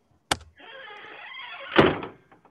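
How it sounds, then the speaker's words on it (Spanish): A door sound played back during an online early-childhood music class: a sharp click, then a sustained sliding or whirring movement ending in a loud thump, with no talking. "A ver la puerta cómo se escucha."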